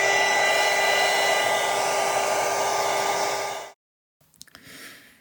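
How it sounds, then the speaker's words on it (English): A heat gun blows steadily and loudly while drying alcohol ink on a craft ornament, a constant whirring whoosh that cuts off abruptly near the end, followed by a few faint handling noises. "I'm just going to give it a blow with the dry heat gun."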